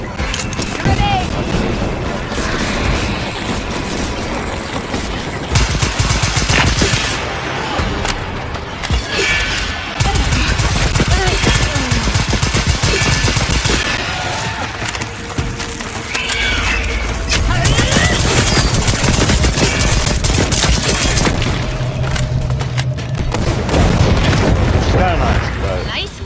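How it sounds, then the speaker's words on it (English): Grenade explosion and gunfire in Second Extinction, sustained loud booms and rattling fire in dense game combat, with shouted voices over the din throughout. "Fire in the hole! Grenade out! Grenade!"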